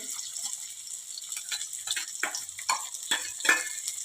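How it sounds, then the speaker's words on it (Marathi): Finely chopped onion sizzles in hot oil with bloomed cumin, a continuous crackling fry with bursts of stirring and spatter, close and fairly quiet. "जिरे छान फुललं की मध्यम आकाराचा बारीक कट केलेला कांदा घालूया कांदा आपल्याला एक दोन मिनटापर्यंत छान असा परतून घ्यायचा आहे"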